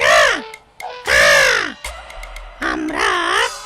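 Loud, close caws from a cartoon crow, three long harsh calls with short pauses between them, alone without other sounds.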